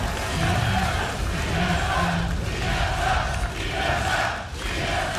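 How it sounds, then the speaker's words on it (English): A large indoor crowd at a League of Legends esports match roars and cheers continuously, loud and sustained, swelling and dipping slightly over several seconds. "You can hear the crowd."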